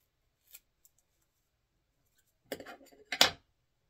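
Scissors snip through a clump of bucktail for a musky fly, two brief crisp cuts close by after a faint earlier tick, otherwise quiet.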